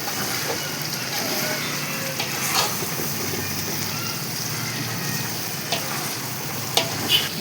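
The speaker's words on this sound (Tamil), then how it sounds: "மூடி வச்சு நல்லா வதக்கணும்." Vegetables for a marriage-style vegetable biryani sautéing in a pan, a steady sizzle with occasional soft scrapes and clinks of stirring running throughout, close and moderately loud.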